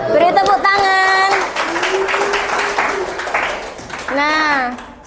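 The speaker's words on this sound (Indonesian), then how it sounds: "Beri tepuk tangan." Children in a classroom applauding at the end of a group presentation, with scattered clapping running beneath children's excited voices and shouts throughout.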